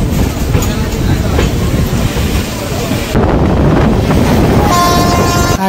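The inaugural special train 03126 Sairang–Kolkata Express departs Krishnanagar City Junction, a steady close rumble of rolling carriages with wind buffeting the microphone, and a sustained horn tone near the end.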